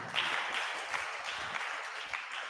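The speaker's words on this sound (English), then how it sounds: "another round of applause for our panelists" A conference audience claps for panelists after an academia-industry panel discussion, a moderate, fairly distant wash of many hands with a few sharper claps standing out, continuing steadily throughout.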